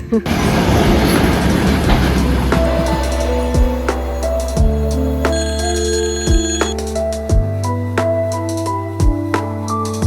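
An electric commuter train arriving in Kolomna, Russia rumbles and clatters steadily, with rhythmic clicking over rail joints and a ringing tone, loud and close, with voices mixed in.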